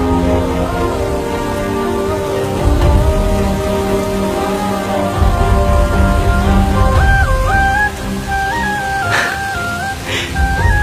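Steady, loud rain pours down throughout, a dense hiss of drops on surfaces with a low rumble underneath and a faint melodic tone drifting in near the end.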